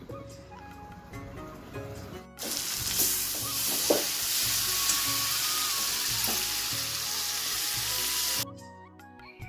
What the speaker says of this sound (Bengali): এখানে তো মশলাটা আমি কষাচ্ছি আর জল দিয়ে দিয়ে কষালে না খুব ভালো হয়।